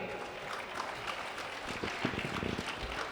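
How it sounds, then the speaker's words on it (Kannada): Audience applause fills the room at a Ganesh festival folk devotional music concert, a steady moderate patter of many hands that grows a little denser toward the end, with no voices on top. "ನಿಮ್ಮೆಲ್ಲರ ಪ್ರೀತಿಯ ಚಪ್ಪಾಳೆಯೊಂದಿಗೆ"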